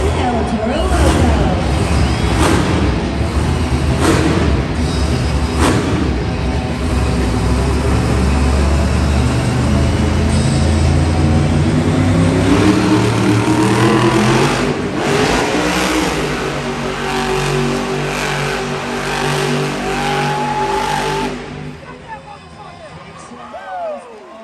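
El Toro Loco, the monster truck in a Monster Jam show in Hartford, roars with loud, sustained engine revving that rises and falls in pitch, under an announcer's voice and crowd noise in an arena.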